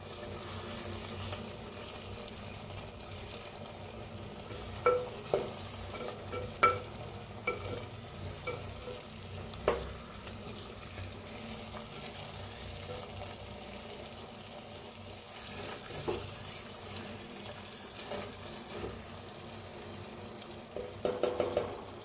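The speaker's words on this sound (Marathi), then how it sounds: "मऊ व्हायला लागलेले आहे टमाटो, फिरवून घ्यायचे." Softening tomatoes get stirred in a pan over very low heat, with a quiet steady sizzle and occasional soft scrapes and knocks of a spoon, and no voices.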